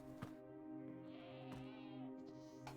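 A goat bleats repeatedly in Minecraft, a harmonic, wavering cry that runs almost the whole time, with a few short clicks, loud and close.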